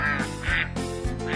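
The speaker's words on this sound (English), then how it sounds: "We'll be right back after Bob gets the ducks out of his living room." Three loud, nasal duck quacks in quick succession, close by, with short gaps between them and no other sounds.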